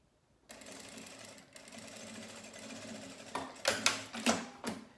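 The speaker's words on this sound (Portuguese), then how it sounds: "passar uma costura aqui embaixo em todo o lado de baixo da peça" A sewing machine stitches a seam along the lower edge of a fabric manicure and nail-polish pouch, running steadily and close at low volume before ending in a few quicker, louder bursts of stitching.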